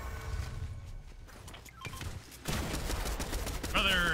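Video game gunfire as players shoot a bot, rapid bursts of shots in quick succession that grow louder and denser toward the end, mixed with faint game sounds.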